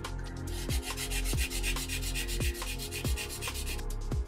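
A 120-grit Neyo nail file rasps along the sides of a fingernail in steady, rhythmic back-and-forth strokes, close and loud, roughly two strokes per second with no talking.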